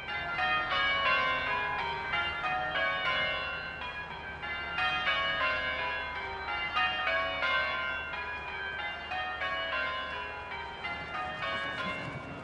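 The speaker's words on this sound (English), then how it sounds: "The bells marking the start of the pageant." Church bells pealing from a floating belfry on the Thames to mark the start of the royal river pageant, a steady run of overlapping ringing strikes carrying clearly over open water.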